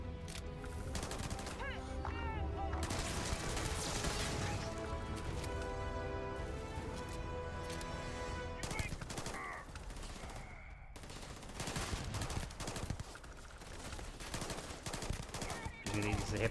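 Rapid bursts of SMG fire in Starfield, dense and loud, repeating in quick rattling volleys over continuous game music and effects.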